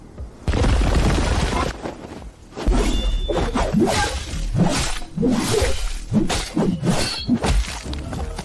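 A game axe shatters and breaks apart, a loud burst of crunching, splintering impacts with whooshing debris, several sharp cracks tumbling over one another close up, with no voices.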